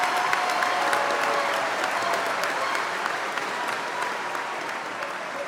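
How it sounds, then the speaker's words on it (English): An audience at the 2025 Central Crossing High School graduation ceremony applauds steadily throughout, a dense, even patter of many hands that fades slightly toward the end. "if I could have a round of applause for Mrs. Hamilton reading 370 names."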